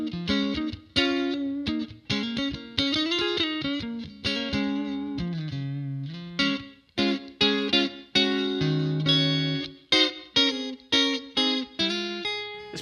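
A clean electric guitar tone from a $230 multi-effects modeler, preset Bebop, plays a run of plucked single notes and chords with delay and reverb tails, bright and close, with no talking.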